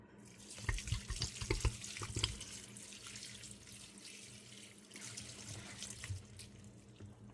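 Filtered water runs from a kitchen tap into a big sink, a steady splashing stream with louder bursts early on and a softer flow afterward, no talking.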